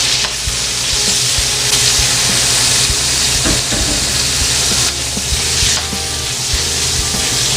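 Shrimp and pork liver fry in a hot pan for chop suey, giving a loud, steady sizzle and hiss with scattered stirring clatter and scraping throughout.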